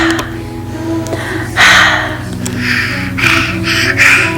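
A child breathes deeply in and out to calm down after being upset, a few audible gasping breaths close by, with a steady hum in the room behind.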